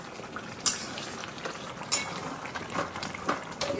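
Mutton curry sautéing in a pan gives a steady frying hiss broken by repeated scraping and clinking strokes of a metal spatula at an irregular rhythm, close and moderately loud, with no speech.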